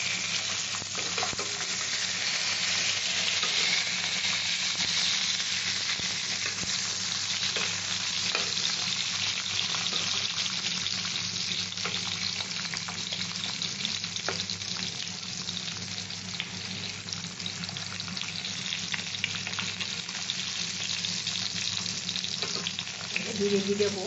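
Pointed gourd fries in a pan over low heat, giving a dense, continuous sizzle that holds at an even level from start to finish with no pauses.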